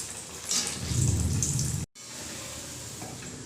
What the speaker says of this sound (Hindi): तो चलिए हम इसे फ्राई कर लेते हैं।